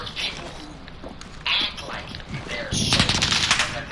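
Gunfire from a gun in a PS4 video game: rapid bursts of automatic shots in several short volleys, loud and near, with a voice speaking among them.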